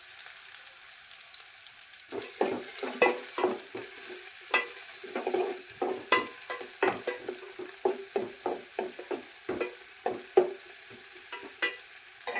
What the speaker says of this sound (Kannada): ಸ್ವಲ್ಪ ಮಿಕ್ಸ್ ಮಾಡ್ತೀನಿ ಈಗ ಕರಿಬೇವು ಹಾಕೋತೀನಿ